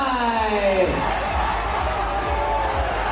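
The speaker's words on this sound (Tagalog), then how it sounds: "crowd goes wild" A festival crowd at Dinagyang Festival in Iloilo roars and cheers in a loud, steady wash of shouting and whoops, with a fading musical tone at the start.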